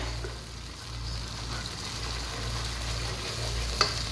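Potatoes being stirred and fried in a pan for chickpea curry, a steady close sizzle running throughout with soft scraping of the spoon and one brief sharp clink near the end.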